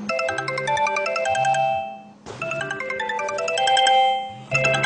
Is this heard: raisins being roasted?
no